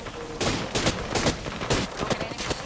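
Rapid bursts of gunfire in a video game shootout, loud overlapping shots in quick clusters close up, with heavy firing throughout and no clear talk.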